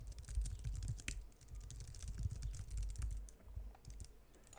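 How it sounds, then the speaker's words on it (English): Steady typing on a computer keyboard, close and clear, with rapid uneven keystrokes running continuously throughout and no talk over it. "And now let's type."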